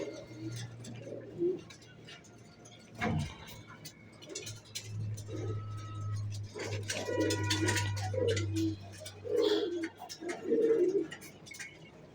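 Pigeons coo softly in a loft while being given water, making repeated low throaty calls mixed with occasional chirps, set against a steady low background hum and scattered faint clicks.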